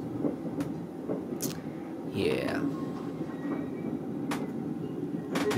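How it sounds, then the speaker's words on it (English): A passenger train in Argentina rumbles past nearby with rattling wheels and a brief squealing screech, while a person speaks briefly over the noise. "oh, there you go. That's the train I was talking about."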